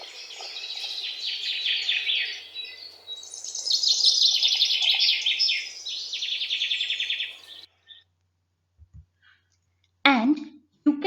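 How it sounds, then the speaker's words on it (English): Birds chirp and tweet in the early morning, several overlapping calls rising loud and busy for about eight seconds, then near silence with a few faint clicks, and a last brief burst of chirping near the end. "You can hear the noise of the birds early in the morning."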